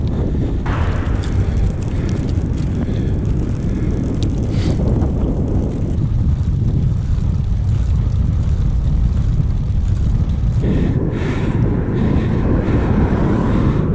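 Strong wind roars steadily across the microphone while cycling along an exposed coastal road near Marshchapel, a loud continuous buffeting that never lets up for the whole stretch.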